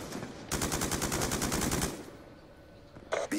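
Rapid automatic gunfire in a first-person shooter game, a loud fast rattling burst lasting about a second and a half, then a quieter pause and a short sharp sound near the end.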